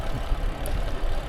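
A sporty motorcycle engine hums steadily and close beneath the rider during a ride out searching for cherry blossoms, with no talking.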